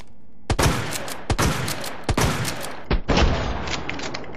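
A shotgun in the Resident Evil 2 Remake video game fires five loud, booming shots in quick succession, each with a short ringing tail, heard close with no talking.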